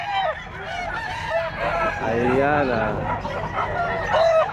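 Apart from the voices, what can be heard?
rooster crowing at a pet market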